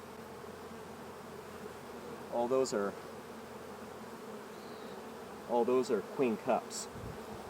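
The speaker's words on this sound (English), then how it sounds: "Some brand new bees on here. A lot of nurse bees." Honey bees in a new nuc hive with nurse bees and queen cups give a steady, faint buzz throughout, while a person speaks briefly over it.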